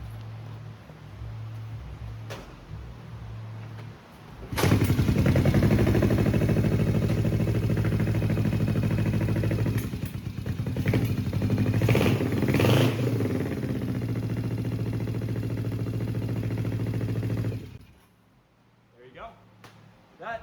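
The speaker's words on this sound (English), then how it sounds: "Now, we're going to attempt to start it. It's got a kickstarter right here." Kick-started engine with a newly fitted carburetor catches after a few kicks and runs loud and close at a steady idle for about thirteen seconds, with a couple of brief revs, then cuts off, while someone talks over it.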